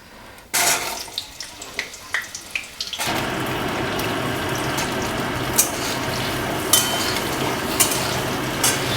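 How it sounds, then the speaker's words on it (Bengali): Large potato pieces dropped into hot spiced oil, a sudden burst of sizzling after a few clinks and taps, then a steady loud bubbling fry with occasional pops, close by. "এই আলুটা আগে আমি ভেজে নেবো"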